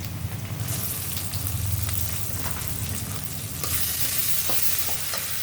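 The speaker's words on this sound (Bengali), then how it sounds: "এখানে আমি সরষের তেলটা দিয়েছি। এরপর আমি বাটা মশলা দেব।" Ground spice paste fries in hot mustard oil with onions, a dense, loud crackling sizzle that swells partway through, stirred with scattered scrapes, heard up close with no talking.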